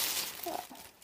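Brief, faint crinkling of wrapping paper, a soft rustle lasting about a second.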